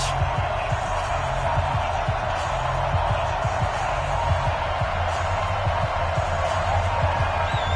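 Stadium crowd noise in an EA Sports NFL game, Philadelphia Eagles versus New York Giants: a constant broad roar with scattered thumps, steady throughout while a commentator talks over it.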